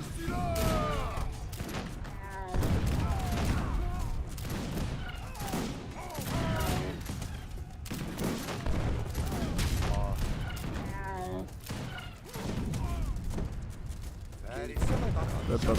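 Massed gunfire and artillery bombardment fill an Age of Empires 3 battle, with dense repeated booms and volleys throughout, unit voices calling out in Arabic, and someone talking over the noise.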